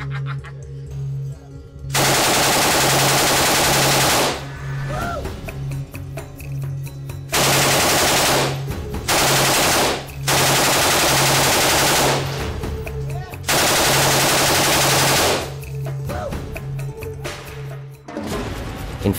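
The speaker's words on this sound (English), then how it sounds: "the saw pumps out bullets when it feels like it, as fast as it can" An M249 SAW machine gun firing long, loud, close bursts of rapid automatic fire, several sustained volleys separated by short pauses with brief murmured voices between.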